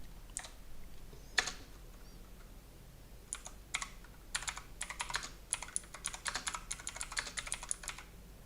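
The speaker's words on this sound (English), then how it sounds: "I'm gonna be typing that down." Typing on a computer keyboard, a few isolated key clicks early on, then a faster run of rapid tapping bursts in the second half, fairly quiet and close with no speech.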